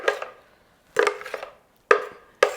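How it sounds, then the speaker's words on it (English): A spatula scrapes and knocks vegan mozzarella cheese mixture out of a blender jar in four sharp, close bursts separated by brief silences, with no talking. "So now I'm going to add the contents of the blender jar."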